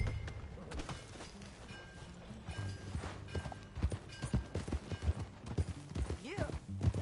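Horse hooves clip-clop at a steady riding pace in Red Dead Redemption 2, the rhythmic footfalls moderately close under faint ambient game sound and some speech.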